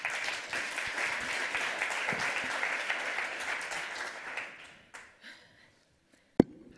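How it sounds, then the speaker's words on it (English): An audience at a hacker-congress panel on depression gives steady applause for a speaker, dense clapping that carries on for several seconds before tapering off abruptly into near silence, broken by a single sharp knock. "Give a round of applause for Christina."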